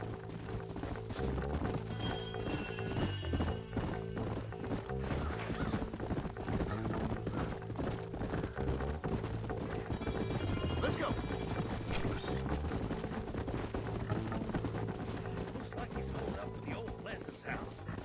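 Horse hooves clip-clop steadily in the Red Dead Redemption video game, several horses trotting under game music and occasional crashes, with characters talking over them.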